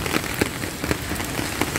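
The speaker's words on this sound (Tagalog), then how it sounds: "Ang sarap nga po maligo ng ulan." Heavy morning rain pours down in a steady, dense hiss, with sharper drop impacts landing every so often across the recording.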